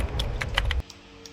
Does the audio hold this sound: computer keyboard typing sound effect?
yes